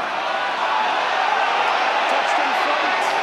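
Rugby crowd at an Ulster versus Treviso match giving a broad, sustained roar of disapproval, a loud wash of massed voices throughout.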